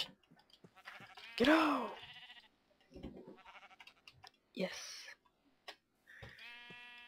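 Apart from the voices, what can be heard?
sheep bleating in Minecraft video game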